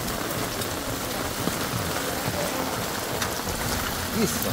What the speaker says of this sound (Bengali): মুষলধারায় বৃষ্টি পড়ছে